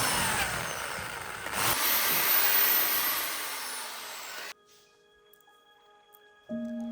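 A power drill bores 10 mm holes through a CD being made into a solar panel, giving a loud whining, grinding run of several seconds. It then cuts off abruptly, leaving near-silence and a faint hum.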